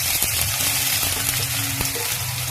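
Chopped onions frying in hot oil seasoned with salt and bay leaf, for a meat and taro curry: a steady, close, dense sizzle with a few faint utensil taps, no talking.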